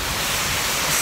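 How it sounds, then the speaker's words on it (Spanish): A waterfall in the snowy Spanish Pyrenees gives a steady, broad rush of falling water, close and continuous, with no voices. "Miren aquí esta otra cascada."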